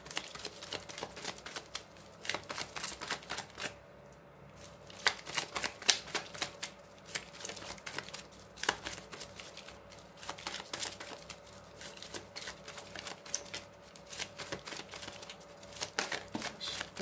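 Tarot cards being shuffled by hand for a reading, repeated crisp riffling and flicking bursts in irregular waves, close and fairly quiet, with no talking.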